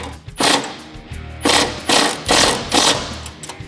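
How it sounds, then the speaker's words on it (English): Bolts on an aluminum inner fender liner of a Jeep Wrangler JK are tightened with a 10mm socket and an Allen key, giving a series of close, sharp ratcheting bursts in an irregular rhythm, alone without talk. "Now you can tighten them down into place with a 10mm socket and a 5/32 Allen key"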